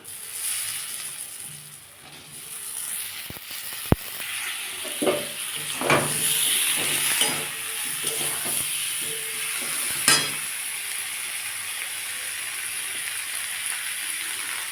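Tomatoes tumble into a frying pan of spiced Bengali chutney base, giving a few soft thumps and clatters over a steady, hissing sizzle that carries on throughout.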